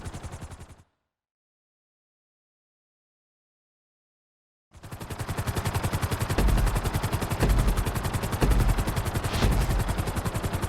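A steady, loud rotor chop of a helicopter in Grand Theft Auto V during a flight-school course, with rapid rhythmic thumping, cutting out to silence briefly before resuming continuously with occasional heavier thuds.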